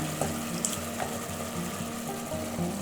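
Soaking liquid from porcini mushrooms pours into a pan for pollo alla cacciatora, a soft continuous trickle and sizzle heard up close.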